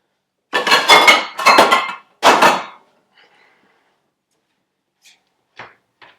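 A small metal pot is handled in a home kitchen while making cherry pie filling, giving three loud clanking bangs in quick succession, followed by a few faint, scattered clinks and taps amid near silence.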